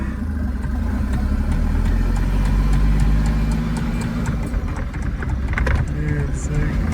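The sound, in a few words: Mercedes 380SL with turbo diesel OM603 swap driving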